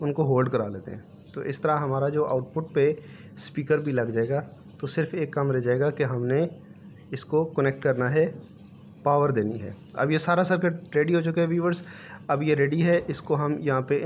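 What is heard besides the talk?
No everyday noise stands out behind the speech.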